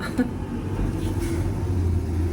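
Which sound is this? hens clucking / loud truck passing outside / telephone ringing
loud truck passing outside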